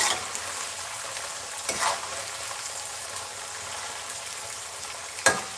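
Potatoes and pork chorizo fry in plenty of hot oil in a home kitchen as papas con chorizo, giving a steady sizzle with a couple of brief scraping stirs, close and alone.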